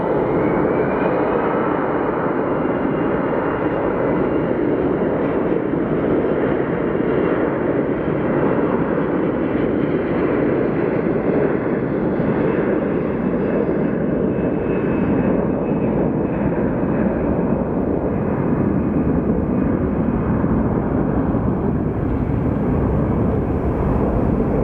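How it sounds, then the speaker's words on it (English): A small plane landing at Phoenix Sky Harbor Airport, its engine a continuous loud broadband roar that holds steady throughout, with no talk over it. "We have a small plane coming in."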